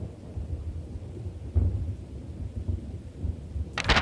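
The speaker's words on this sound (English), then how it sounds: "contemplating the falling rain" Rolling thunder rumbles low and continuous beneath a steady hiss of falling rain, with a brief sharper crackle near the end and no voices.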